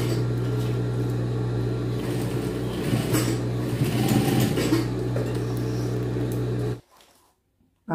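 Sewing machine stitching a jeans waistband, a steady close whirring hum that runs for about seven seconds before stopping abruptly into near silence.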